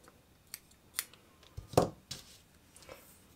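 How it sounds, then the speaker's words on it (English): Scissors snip through crochet yarn in a few quiet, sharp cuts, with one louder snip near the middle amid light handling noise. "but I'm gonna cut the yarn here."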